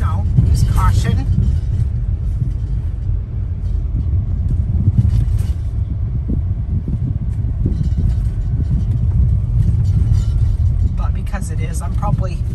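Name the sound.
car driving on bumpy washboard dirt road, Big Cypress Loop Road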